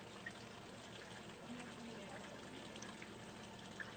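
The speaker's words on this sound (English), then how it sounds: "And then we just top it off with a little Prosecco." Prosecco is poured into a drink, giving a soft steady fizzing pour with faint bubbly crackles throughout, quiet and close.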